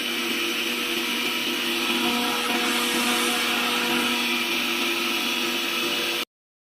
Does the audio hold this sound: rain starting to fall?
no